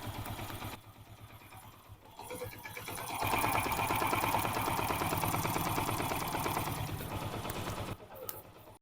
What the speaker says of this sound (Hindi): अभी देखिए इंजन का साउंड भी मस्त मोला मक्खन हो गया है।